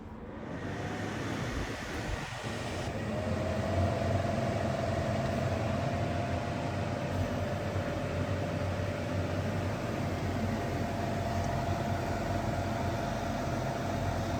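An EBERG TEXO 3.5 kW portable air conditioner starts up and runs with a steady, fairly loud broadband whoosh and a constant tonal hum, a brief clunk near the start, then an unchanging drone with no talking.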